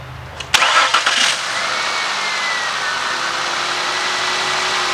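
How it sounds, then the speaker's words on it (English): A car engine cranks briefly, catches and settles into a steady, even idle with no misfires, heard close and alone. "I'm going to start this vehicle up and show you that the car is running good"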